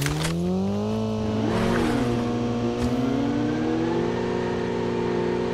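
A motorcycle engine in a video game revs alone, its pitch rising and dipping in smooth sweeps, loud and close.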